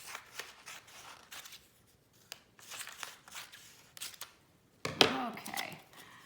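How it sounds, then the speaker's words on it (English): Scissors cutting a small paper muskox picture into strips: a series of close, crisp snips and paper rustles in uneven bursts, with one louder crunchy cut near the end. "I'm going to take this little muskox picture that I've got, and I'm going to cut it"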